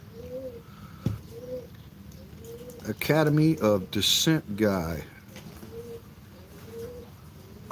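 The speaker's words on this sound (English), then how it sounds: "birds singing, and of course we got some homing pigeons" Homing pigeons coo softly and repeatedly at dawn in Thailand, with faint birdsong around them; someone talks briefly in the middle, then the low coos return.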